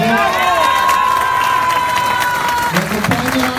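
Crowd applause at a political pre-candidate registration event, a loud continuous burst of clapping and cheering throughout, with a sustained tone and some voices mixed in near the end.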